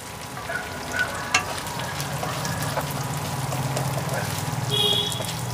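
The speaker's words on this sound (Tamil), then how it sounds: "ஆ எடுத்து இப்போ சின்ன வெங்காயம் நான் போடணும்." Small onions frying in a pan for masi sambal, a steady close sizzle with occasional stirring clinks and scrapes, no talk over it.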